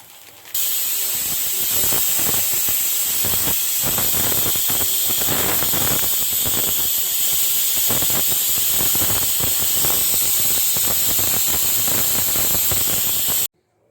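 A pressure cooker cooking curry gives a steady, forceful hiss of escaping steam as it whistles, mixed with a rapid rattling flutter, loud and close, cutting off abruptly at the end.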